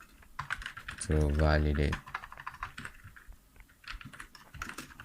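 Keyboard typing as a password is entered on a computer, a run of quick light clicks under a voice, broken by a loud, even burst of tone about a second long.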